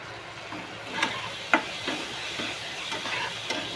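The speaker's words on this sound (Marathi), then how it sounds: "चांगला भाजलाय कांदा टोमॅटो हे बघा." Onion and tomato frying in a pan, a quiet, steady sizzle broken by a few scattered clicks and scrapes from stirring.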